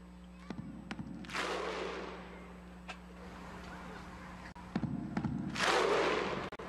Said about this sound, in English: That's the crowd participation I like to hear.